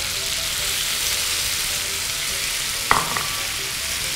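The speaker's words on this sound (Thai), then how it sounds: "ปิดท้ายนะคะเราจะใส่กะเพราลงไปค่ะ" Pork belly and holy basil stir-frying in a wok, a steady broadband sizzle throughout with a sharp metallic clack of a utensil near the end, loud and close with no voices.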